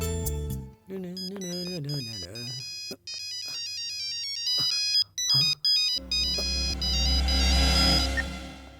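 A mobile phone ringtone plays for an incoming call, a loud melodic electronic tune with stepped repeating notes, breaking off briefly before a final burst over a low rumble.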